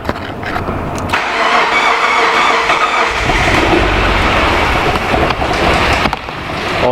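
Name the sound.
Subaru Liberty 3.0 boxer engine first start and idling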